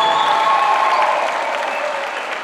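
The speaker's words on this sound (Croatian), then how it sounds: "pozdravimo velikim pljeskom, kulturno-umjetničko društvo Tomislav Donji Andrijevci" Loud, sustained applause from an audience welcoming a folk dance ensemble onto the stage at a regional folk festival, dense clapping throughout that fades slightly toward the end.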